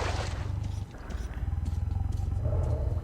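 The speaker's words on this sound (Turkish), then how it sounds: "Şu kükremeye bakar mısınız ya?" A deep, drawn-out animal roar rumbles loud and near, swelling and fading over several seconds, with faint voices mixed into the background.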